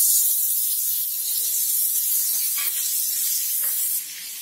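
Butter sizzling on a hot tawa over a gas flame while making a vegetable sandwich, a steady close hiss lasting throughout with a few faint clicks, no voices.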